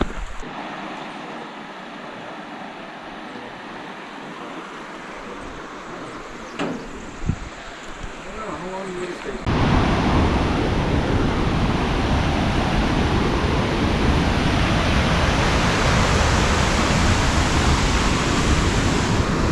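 A river runs beside a hiking trail in Oregon, its rushing water swelling abruptly into a loud, steady broadband roar after a quieter stretch of trail ambience.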